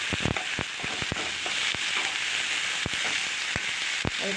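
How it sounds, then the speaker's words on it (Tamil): Onion, garlic and crushed turkey berries sautéing in a pan for a Tirunelveli-style kulambu, a steady frying hiss broken by sharp irregular pops and spatters, close and without talk. "இப்போ நம்ம நசுக்கி வச்சுருக்க சுண்டைக்காயை சேர்த்துக்கலாம். சேர்த்து நல்லா வணக்கி விட்டுருங்க."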